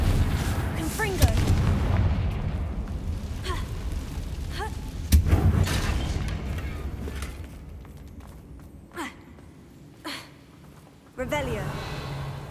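Repeated booming fire-spell blasts and footsteps from the Hogwarts Legacy wizarding game, loud and punchy against a busy backdrop of game sounds, with talking heard at points.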